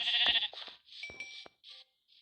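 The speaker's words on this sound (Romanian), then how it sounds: "acum găsesc câte oi vreau eu" Sheep in Minecraft PE give several short, high, nasal bleats in quick succession, close and clear, with brief gaps of silence.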